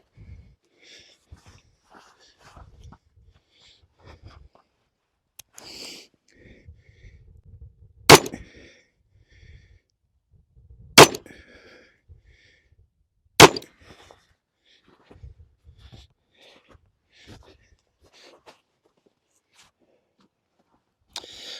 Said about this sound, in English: We're going to shoot a 3-shot group and see how she shoots.